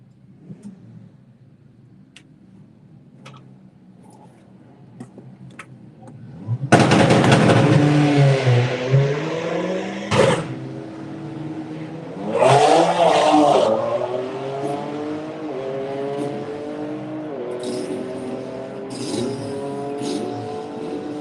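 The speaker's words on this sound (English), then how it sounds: "Harry Gamble with the VW Golf will be taking on the BMW." VW Golf and BMW race cars on a drag strip on test day: a quiet idle, then engines roar into hard acceleration with rising revs and gear changes, loud and close, with a brief pop and further revving.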